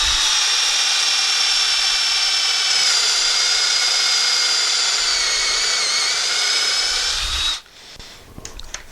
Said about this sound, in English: And then just drill away.